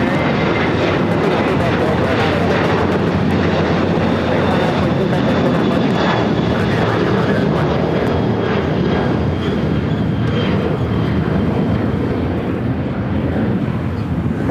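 Airliner taking off at night from Los Angeles International Airport on the south side, a loud continuous roar of jet engines filling the whole span, broad and steady with a slight swell.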